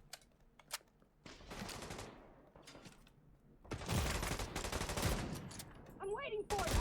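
Video game gunfire from The Division 2 comes in dense bursts of rapid automatic shots, quieter at first and then loud and sustained in the second half, with a short rising electronic tone near the end.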